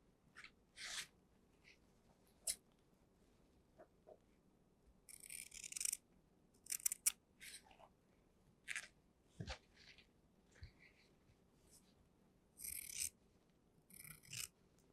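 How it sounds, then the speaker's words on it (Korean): Scissors cut through two layers of fabric laid flat on a work surface while tailoring a miniature traditional Korean boy's coat and trousers, producing quiet, close, intermittent snips and rasps separated by short pauses. "가위는 원단이 두 장이기 때문에 가위는 바닥에서 오리는 게 좀 더 안정적일 수 있어요"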